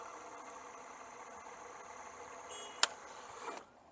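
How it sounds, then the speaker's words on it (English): An Engwe e-bike electric motor running on a second add-on battery, a faint steady whine with a soft hum, one sharp click near the end before it cuts off, with no talk. "power the bike on, and test it on the extra battery"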